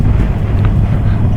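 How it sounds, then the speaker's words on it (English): Steady wind buffeting the microphone outdoors near a river, a loud, continuous low rumble with no voices. "I complain a lot about the wind"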